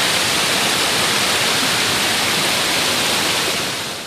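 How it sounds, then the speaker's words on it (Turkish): Floodwater roars from a creek overflowing after a heavy downpour in a residential neighbourhood, a loud, dense, continuous rush that tapers slightly at the end, with no voices. "Mahalledeki dere taştı."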